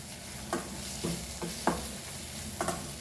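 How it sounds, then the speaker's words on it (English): Masala frying in a pan for Goan doyee bhaji, a steady close sizzle broken by about five scraping strokes of stirring, with no talk. "Now at this point, the masalas are fried nicely."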